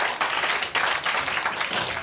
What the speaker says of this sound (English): Ladies and gentlemen, round of applause for Janet Street Porter